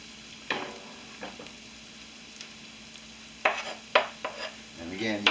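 Finely chopped meat for a homemade steak and cheese sandwich is tossed in a hot pan, a faint sizzle under a few sharp scrapes and clanks from the tossing, with no talking.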